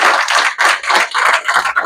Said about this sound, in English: So a big applause for the marketing team for creating this.